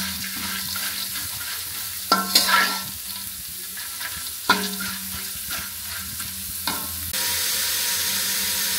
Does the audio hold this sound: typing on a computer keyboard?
no